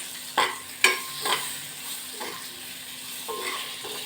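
Green chillies coated in panchkutiya spice mix are stirred in a dish, giving a few sharp utensil scrapes and clinks at the start and then softer, sparse scraping strokes over a quiet background.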